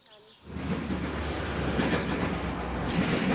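A GO commuter train rolls past on its tracks in Scarborough, Toronto, sweeping in after a quiet half-second into a loud, sustained roar of wheels and rail clatter that stays close throughout.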